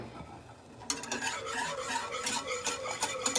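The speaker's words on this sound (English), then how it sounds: "Okay, just give it a little whisk there." Pumpkin crème brûlée custard whisked in a bowl: a close, brisk run of scratchy, rhythmic whisk strokes that starts suddenly and continues steadily, with no one talking.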